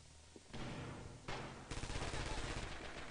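Grenade exploding in the Red Orchestra 2 World War II shooter, a burst amid dense battle noise with sharp blasts and a rattle of rapid gunfire continuing around it, fairly quiet overall.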